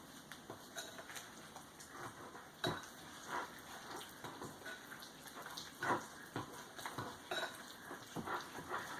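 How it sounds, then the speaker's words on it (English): A fork mixes a thick peanut butter egg filling in a bowl, giving soft scraping and irregular taps against the dish. The sounds come close and fairly quiet, with no talking. "Switch over and use a fork and just start to get this incorporated together."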